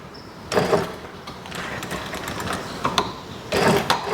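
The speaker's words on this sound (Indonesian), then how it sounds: "Kemudian kita jahit. Jahitnya minggir di kain keras ini." A sewing machine stitches along the edge of a stiff interfacing on a shirt cuff in short bursts of rapid whirring, separated by quieter pauses and small mechanical clicks.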